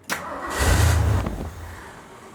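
A 1975 Jeep CJ5 engine with a freshly rebuilt Holley 650 carburetor cranks once briefly, then catches and roars into a loud low rumble that settles and fades toward idle within a couple of seconds.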